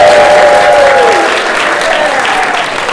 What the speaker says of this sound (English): thank you so much for that round of applause